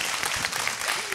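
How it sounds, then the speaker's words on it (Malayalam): Applause from a studio audience on a TV entertainment show, a brief, dense burst of many hands clapping at an even level with no voices. "നമുക്ക് എല്ലാവർക്കും ഒന്നുകൂടെ ഒരു ക്ലാപ്പ് കൊടുക്കണ്ടേ?"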